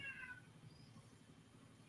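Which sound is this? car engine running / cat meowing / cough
cat meowing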